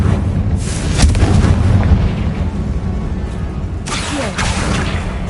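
Confringo blasting spell in Hogwarts Legacy erupting as a loud, heavy explosion, with a rumbling boom and a second burst a few seconds later, no talking.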